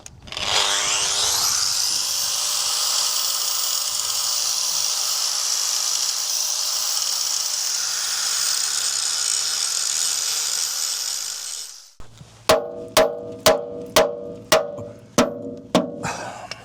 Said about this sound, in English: So I'm just going to get the grinder just on the bottom just to make sure there's no lips.